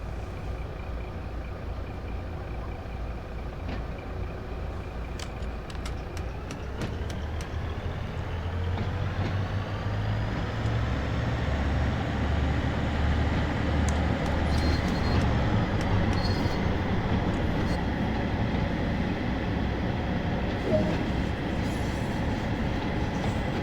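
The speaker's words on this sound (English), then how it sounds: "Now move the train brake into the released position to release the brakes" A Class 150 diesel multiple unit in the Train Sim World 2 West Cornwall local route pulls away from a stand, its engine note climbing and swelling into a steady, loud drone with rail rumble and no voices.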